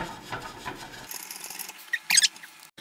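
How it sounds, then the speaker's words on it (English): A metal center spindle is screwed into the base of an Express tire changer, giving quiet, intermittent rubbing and scraping with a sharper squeaky burst near the end. "Screw it into the first hole from the left, all the way down."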